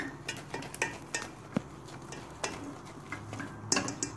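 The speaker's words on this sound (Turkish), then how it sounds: "Son bir karıştırayım" Spoon scrapes and clinks inside a pot as cooked semolina halva gets a final stir, a series of irregular light taps and knocks, fairly close and quiet, with no talk.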